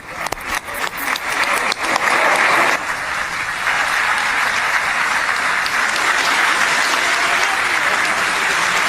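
Members of the Israeli parliament applaud in welcome for the Indian prime minister, a loud, sustained wave of many hands clapping that builds from scattered claps into a dense, continuous ovation in a large chamber.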